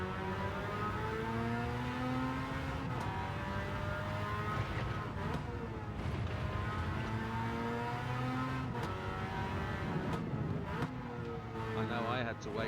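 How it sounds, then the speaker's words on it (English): A Suzuki Cappuccino with a swapped Mazda RX7 engine races around the Deep Forest track in Gran Turismo 7, its high revs rising and dropping through gear changes as someone talks over it. "This is the RX7 engine, isn't it?"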